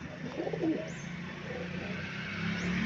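Racing pigeons coo softly in a loft during a release check, low murmuring calls repeating under steady background noise with no clear talk.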